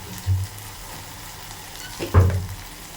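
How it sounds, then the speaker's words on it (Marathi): Masala and chili powder fry in oil in a pan for a pomfret curry, giving a low, steady sizzle with two brief louder stirring bursts. "आता हे मसाला आपण परतून घेऊ तेलामध्ये."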